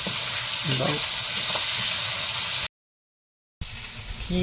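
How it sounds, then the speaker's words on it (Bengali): Fish frying in hot splattering oil at night in a Sundarban outdoor kitchen, a steady loud sizzle and hiss broken by a brief silent gap, with a voice speaking briefly over it. "মাছগুলো এবারে দিয়ে দিব কি হলো এত তেল ছিটকাচ্ছে কেন"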